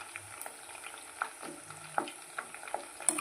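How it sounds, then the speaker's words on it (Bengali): Herbs fry in oil being cooked down into homemade hair oil, giving a faint, sparse crackle and soft sizzle with scattered small pops. "আর এগুলো সব দেখো তেলে ভাজা হয়ে চুপসে গেছে"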